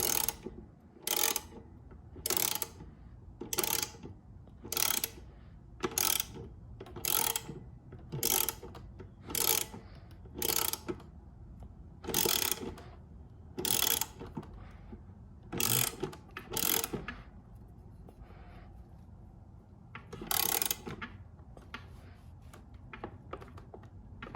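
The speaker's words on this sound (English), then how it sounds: "Finish it off with a socket wrench." A socket wrench ratchets a bolt tight on a lawn mower blade during sharpening, with repeated short bursts of clicking in a steady rhythm, close and clear, pausing briefly between strokes.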